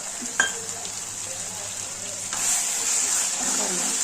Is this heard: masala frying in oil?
yes